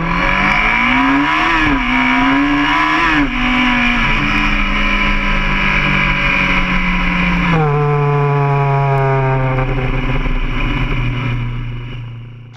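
1980s Yamaha two-stroke motorcycles accelerate hard with a loud, close, raspy engine note that rises and dips through gear changes, then climbs steadily again before fading slightly at the end.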